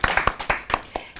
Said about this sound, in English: Let's have a little round of applause for Elizabeth.